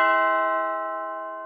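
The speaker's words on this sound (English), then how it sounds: "someone rang the doorbell." A doorbell chime rings once, a clear sustained bell tone that slowly fades, heard alone with no talk.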